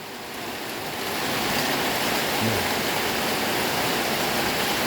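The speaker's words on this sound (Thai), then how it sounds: "ฝนดีฝนดีนะครับ" Heavy rainy-season rain pours down as a steady, dense hiss that swells over the first second and then holds loud and unbroken.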